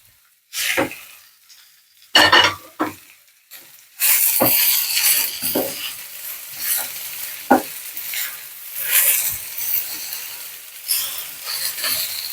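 Green chillies and small shallots stir-fry in a pan for a Kerala-style ulli thoran, giving a loud hissing sizzle broken by intermittent scraping stir strokes, with a near-silent pause at the start.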